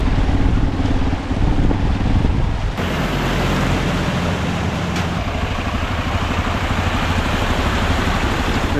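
A motorbike rides through flooded roads after cyclone Fengal in Vavuniya, Sri Lanka, its engine drone buried in steady, loud wind buffeting and a continuous water-like rush throughout.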